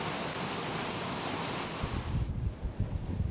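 Strong storm wind during Storm Dennis roars through trees in a broad, steady rush, then breaks into gusty low buffeting against the microphone near the end.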